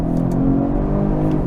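A Genesis G70 with the 3.3 twin-turbo V6 in sport mode accelerates hard, a dense, steady engine drone heard close up from inside the car with no talking.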